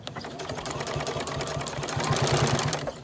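Sewing machine basting a short section within the seam allowance to join a bag's outer fabric and lining, a steady close motor whir with rapid rhythmic needle thumps, running continuously.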